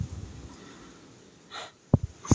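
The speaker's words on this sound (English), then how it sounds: "Excuse me, I need to blow my nose." A person blows their nose during a late-night live stream: a short nasal blast, then a few sharp snorting bursts close to the mic, with faint breathy noise before it.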